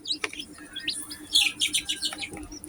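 Newly hatched Rhode Island Red chicks chirping nearby, a cluster of high, thin peeps and tweets overlapping in quick bursts over a faint low background hum.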